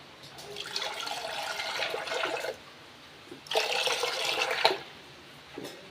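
Water runs and swishes as rice and lentils are rinsed in a kitchen for sweet pongal, two steady splashing bursts separated by a short lull, with no talk.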